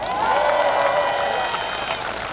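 Outdoor crowd at a political campaign speech by a beach applauding with some cheering. Sustained clapping under a rising, wavering voice or tone, fairly loud throughout.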